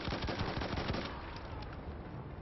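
Burst of gunfire from a French gun in Battlefield 1, with rapid loud shots that thin out into a softer rattle of distant fire.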